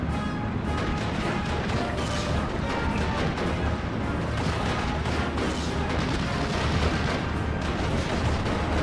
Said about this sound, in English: With incoming mortar fire.